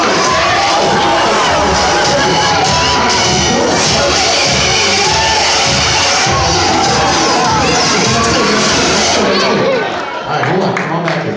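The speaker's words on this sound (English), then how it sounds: "Let's play the music, let's cheer them on." A crowd cheers and shouts continuously while a strength performer pulls a horseshoe apart at a live show. The roar stays loud and dense throughout, with children's shrieks mixed in and a brief dip near the end.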